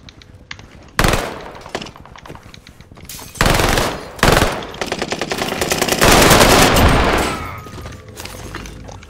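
Gunfire in the video game Warzone: sharp bursts and sustained rapid automatic fire, loud and close, with single cracks and a long rattling volley near the end.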